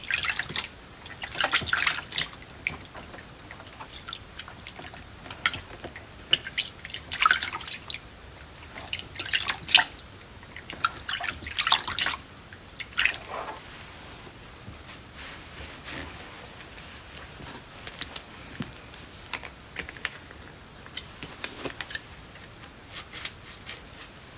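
Water drips and trickles in a spa basin as a foot is rinsed, with soft irregular drops and small splashes repeating close by over a quiet background, no talking.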